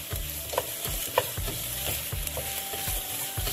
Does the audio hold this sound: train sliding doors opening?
no